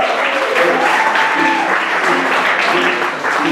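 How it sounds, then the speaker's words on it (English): Steady applause from a crowd fills a cafe, continuous clapping with scattered cheers and voices mixed in throughout. "Ryan Cooch, give it up for him playing Starbez."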